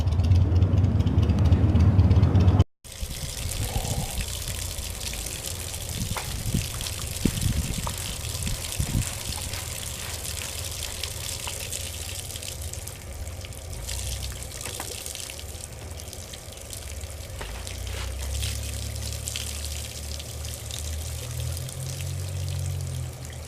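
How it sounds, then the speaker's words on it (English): Water splashing steadily from the vents of a Yamaha outboard motor running on flushing muffs, a continuous gushing stream heard after a brief louder burst at the start, with a low rumble rising near the end. "The water is coming out of the top like it should, so I know that's good to go."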